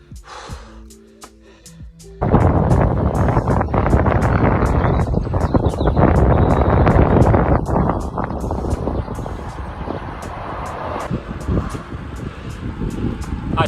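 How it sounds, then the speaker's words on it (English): Strong wind buffets the microphone on a cyclist's ride along quiet French roads, a loud continuous roar that rises abruptly after a quieter opening and then holds steady, with some breathing heard through it. "a little bit of wind today"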